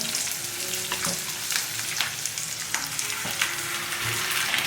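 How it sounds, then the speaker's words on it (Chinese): Squid and pork belly stir-frying in a hot wok, a steady dense sizzle with intermittent scraping clicks from stirring, close and fairly loud throughout. "然后把鱿鱼倒进来摊开"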